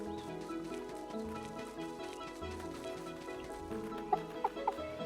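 Soft, intermittent chicken clucks from the farm game Staxel sound faintly over gentle background music, followed near the end by a few sharp plinking chimes.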